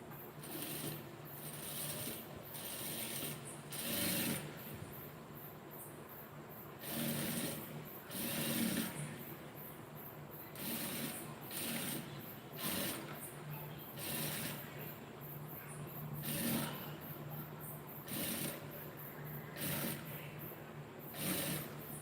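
A sewing machine stitches piping onto a lined blouse in repeated short bursts of rapid mechanical whirring, separated by brief pauses, fairly quiet and close.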